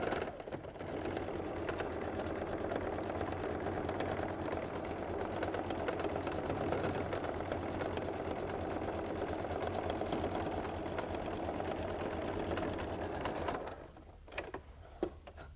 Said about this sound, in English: Now I'm going to come here and sew my 1/4 inch seam.